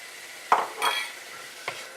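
Chopped tomatoes sizzle as they sauté in a pan while a spoon scrapes and stirs, with two or three short clanks of metal close by.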